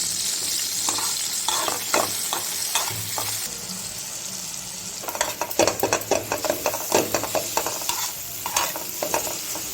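Chopped tomatoes sprinkled with salt frying in a pan, a constant hiss and sizzle with repeated scraping stirs that grow quicker and busier toward the end, close and fairly loud, no talk.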